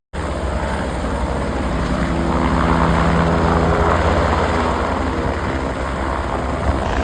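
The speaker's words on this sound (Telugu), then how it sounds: "ఇప్పుడు హెలికాప్టర్స్ ఇట్లా వచ్చి ల్యాండ్ అవుతాయి." A helicopter landing at the Kedarnath helipad drones loudly and continuously, its engine and rotor noise close and steady throughout.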